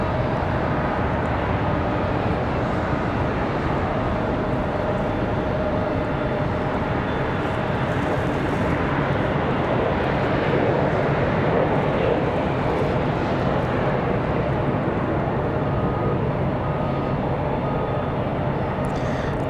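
An airliner in One World livery comes in to land at Charlotte Douglas International Airport, its engines a steady, broad roar that holds at an even level for the whole stretch, with no one talking.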